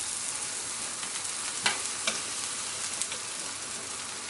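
Mushrooms brown in a hot pan with a dense, continuous sizzle and a few sharper pops and stirring clicks, close and alone.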